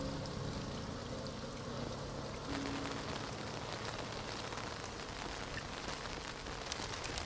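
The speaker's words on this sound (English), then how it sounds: "Guessing this is the sound of rain." Steady rain falling in a small town in the video game Know by Heart, a dense continuous patter with a faint low hum underneath, close and even throughout with no voices.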